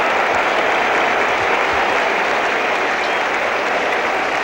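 A cricket crowd at the 1975 World Cup cheers and applauds continuously, a dense, loud roar of clapping and shouting sustained without a break.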